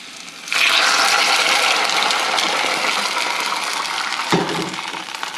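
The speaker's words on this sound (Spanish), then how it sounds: "Vamos a echar el agua" Water pours steadily and fairly loudly into a pot of chiles, a continuous gushing splash that begins suddenly, holds for several seconds and then eases near the end.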